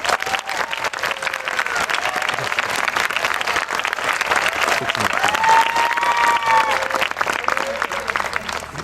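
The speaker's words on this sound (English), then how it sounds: "Could you stand so we could applaud you and thank you for your support of our school?" Sustained applause from a graduation ceremony audience at Idyllwild Arts Academy, steady dense clapping filling the room throughout with a few faint voices mixed in.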